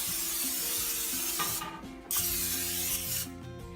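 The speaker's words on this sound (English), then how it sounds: "I'm going to spray the pan first so nothing sticks." Short hissing spray bursts mixed with clicking, rattling mechanical sounds from a nozzle, close and fairly quiet.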